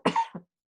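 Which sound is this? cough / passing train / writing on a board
cough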